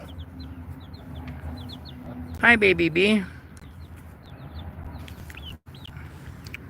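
Backyard chickens eating piled leaves make soft clucks and chirps, then one louder, rising squawk cuts through, while a person talks nearby.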